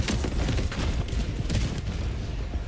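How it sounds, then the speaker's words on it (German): Heavy explosion and battle noise in the video game Helldivers 2, a dense, loud low rumble with scattered blasts and crackling gunfire, sustained throughout without talk. "Da war eine große Explosion."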